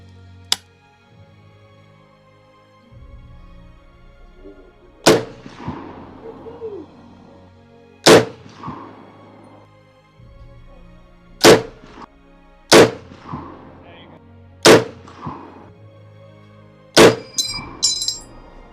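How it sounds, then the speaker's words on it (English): An M1 Garand rifle fired at a shooting range: loud, sharp single reports spaced a few seconds apart, each with a short ringing tail, plus a faint ping of metal near the end. "Let's go ahead and pop off a couple rounds."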